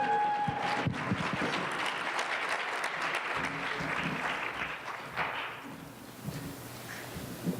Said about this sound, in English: Please give a round of applause for Asia.